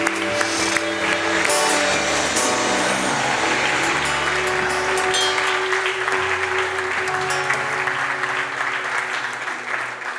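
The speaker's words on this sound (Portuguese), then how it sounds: "vamos aplaudir a Jesus" A church congregation claps for Jesus during a worship service, steady loud applause filling the whole stretch with a low sustained hum of music or organ underneath.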